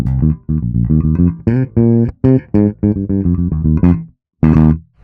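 Short plucked bass notes in a steady rhythmic phrase, punchy and close, with brief gaps between groups and a final note after a pause.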